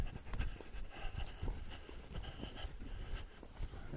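A horse lopes on soft ground nearby, its hooves thudding in a steady, rolling rhythm of muffled beats, faint and continuous with no voices.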